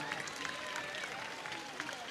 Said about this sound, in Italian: Ricordiamo Maria Cristina con un bel applauso